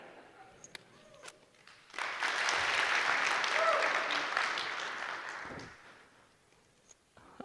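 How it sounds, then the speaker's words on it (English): An audience at a React developer conference claps together for a few seconds after a brief pause, the applause rising sharply, holding steady, then fading out, with some speech before and after. "I'd really appreciate if every time I take a sip of water, y'all could give me a clap"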